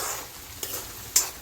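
Onions and green chillies frying in oil with mustard seeds in a pan, a steady soft sizzle with two brief louder stirring clatters, no voices.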